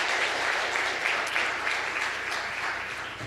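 Applause from delegates at an international funding pledge meeting, a steady wash of clapping throughout that eases slightly toward the end.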